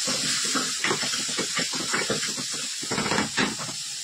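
Garlic and coriander paste hitting a hot pan for fish masala, giving a loud, steady sizzling hiss that crackles and sputters throughout, close by and with no voices.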